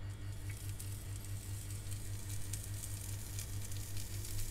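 Duck skewers laid fat side down on a very hot griddle, giving a steady, dense sizzle with crackling pops throughout, close and fairly quiet, with no talking.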